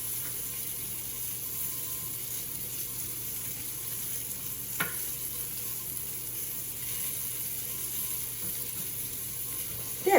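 Flour-dredged chicken pieces for chicken cordon bleu fry in a pan with a steady, even sizzle, broken by a soft clink midway and a brief bump right at the end.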